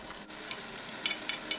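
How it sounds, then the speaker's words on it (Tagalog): Onions sizzling in hot oil for Filipino chicken afritada, a steady crackling fry with a few scraping stirs of a utensil against the pan, close and fairly quiet. "ilagay natin ang oil at saka ang onions pag kumukulo na ang oil."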